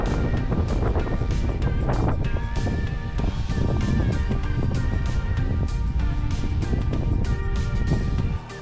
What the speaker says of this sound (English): So it's really nice sailing today. Quite flat waters